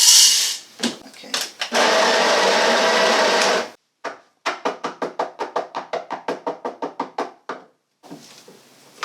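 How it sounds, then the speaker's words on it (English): An espresso machine brewing espresso: a loud mechanical buzz runs for a couple of seconds, then a rapid series of sharp, rhythmic pulses clicks along before stopping. "So let's brew some espresso."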